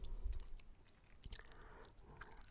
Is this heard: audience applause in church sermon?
no